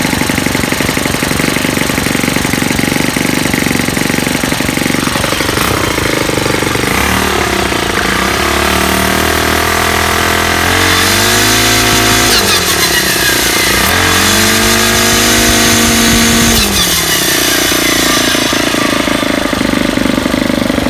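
A gas brush cutter fitted with a Rino Tuff head carrying serrated metal blades, running loud and close, its engine whining and surging up and down in pitch as the throttle changes, with no talk.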